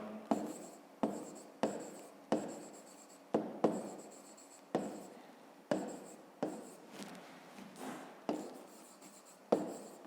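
A pen writing a math solution on paper, close and quiet, with repeated short scratchy strokes and taps in an uneven rhythm, about a dozen bursts alone without talk.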